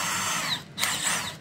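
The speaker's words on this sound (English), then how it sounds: "get these rivets to drill out." A power drill whines steadily at close range, briefly dipping and surging as it bites into metal rivets on a Triumph motorcycle.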